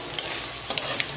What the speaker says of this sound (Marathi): आता या खोबऱ्याला बी हलकस लाल रंगावर तळून घेऊ.